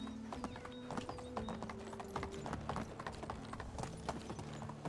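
Horse hooves clip-clop at a steady trotting rhythm in the medieval survival game Medieval Dynasty, close and continuous over a faint ambient background.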